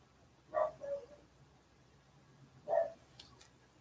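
A dog barking in a yard, two short barks about two seconds apart at moderate distance, followed by faint chirps against a quiet background.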